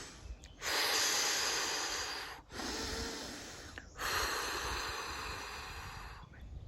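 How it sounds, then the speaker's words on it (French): Slow, deep breaths are drawn and released close to the microphone, three long airy inhale-exhale cycles with no speech. "je vais faire 3 respirations profondes."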